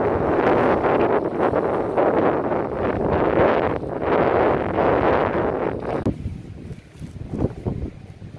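Wind blows across an Oregon beach, loud buffeting gusts hitting the microphone for most of the stretch before easing into quieter, patchy rustling near the end.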